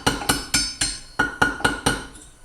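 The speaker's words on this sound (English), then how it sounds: "I put it in the hole, and I've been tapping with the hammer here." A hammer taps an eighth-inch drill bit set against a spring pin in a Ski-doo Expedition QRS clutch, giving seven sharp metallic strikes in a steady, close rhythm with bright ringing decays.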